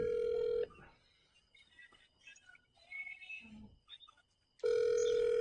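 A telephone ringing during a call, two loud electronic ring tones separated by a pause, with faint background murmur and soft noises between the rings.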